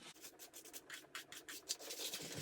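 A hard brush scrubs dirty chainsaw parts in quick, uneven strokes, a close, soft scratchy rubbing that carries on steadily throughout with no talking.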